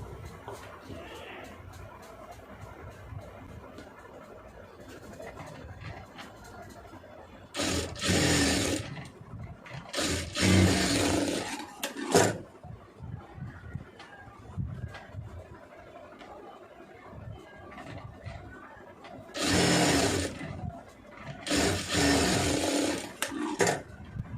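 A sewing machine stitches a neck piece onto a garment in several loud, whirring bursts of a few seconds each, separated by quieter handling noise and faint talking.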